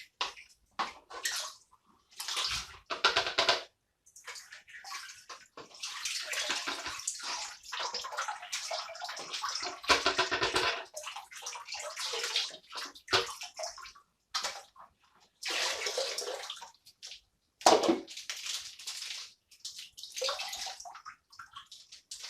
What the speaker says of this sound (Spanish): echamos el concentrado por el embudo, con agua, que es más fácil que arrastre todas las partículas interesantes